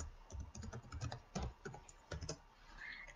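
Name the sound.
typing a password on a computer keyboard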